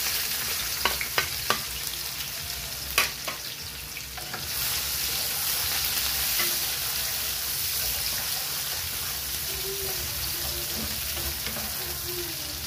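Onion and garlic hitting a hot pan for a homemade Valenciana, a few sharp clicks and knocks first, then a dense, even sizzle that holds steady and close without any voices.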